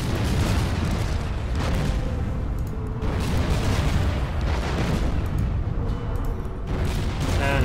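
Torpedo strikes in the strategy war game Order of Battle: Sandstorm, heavy rumbling explosions rolling one into another in a dense, continuous roar with no speech.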